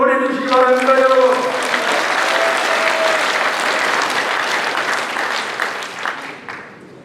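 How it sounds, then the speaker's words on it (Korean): Dense, steady applause from a crowd at a People Power Party South Chungcheong members' education and chapter chair inauguration ceremony, lasting about seven seconds and slowly thinning toward the end, with a voice briefly audible over the opening. "우리 충청인 충청남도가 큰 박수 한번 보내주시기 바랍니다, 여러분."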